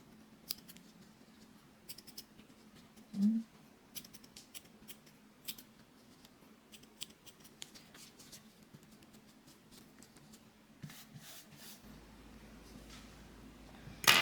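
Scissors snip through chunky yarn while a winter mesh-knit bag is trimmed, one crisp close cut standing out among faint scattered clicks and rustles, with no talk.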